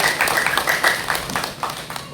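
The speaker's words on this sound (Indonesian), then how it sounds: "Tepuk tangan." Audience of teachers and education staff at a character-building event for an Indonesian school foundation in Tabanan applauding, a brief burst of dense close clapping that thins out toward the end.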